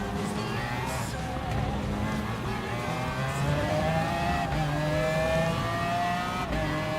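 Race cars in Gran Turismo Sport at the Suzuka circuit, engines whining steadily with rising and falling pitch as cars pass close, a continuous loud drone with a voice talking over it.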